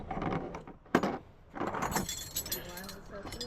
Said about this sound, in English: I like these old keys.